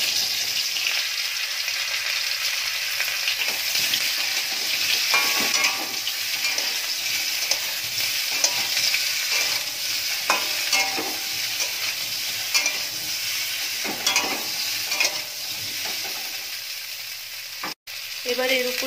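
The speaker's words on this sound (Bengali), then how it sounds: "এবার যে আলুগুলো সেদ্ধ করেছিলাম সেটা এবার এই তেলের মধ্যে দিয়ে দেবো" Boiled small new potatoes frying in mustard oil in a wok, a steady close sizzle broken by repeated scraping stirs of a spatula against the pan.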